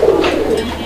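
A pigeon, one of several high-quality birds being shown for sale, gives a single loud, close coo that lasts under a second, with no voices over it.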